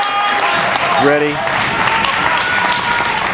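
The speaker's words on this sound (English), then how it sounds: "Gotta give my own a round of applause here for these athletes" Spectators at a college table tennis men's singles final give loud, sustained applause, with a voice briefly audible over the dense clapping.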